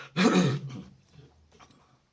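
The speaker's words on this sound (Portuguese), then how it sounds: "o inverno produz uns pigarros na garganta" A single close, gravelly throat clearing, loud at first and trailing off into a few softer rasping rumbles.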